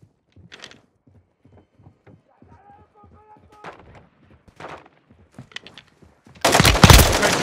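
Gunfire in Call of Duty: Modern Warfare II bursts out loudly near the end, following a stretch of quiet sparse clicks and faint effects.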